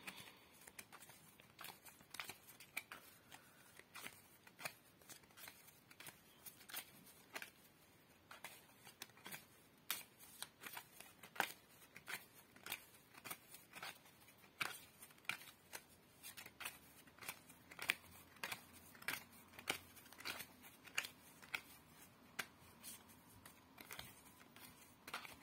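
Tarot cards are shuffled with soft, irregular riffles and crisp flicks that repeat throughout, quiet and close.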